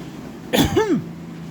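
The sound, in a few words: coughing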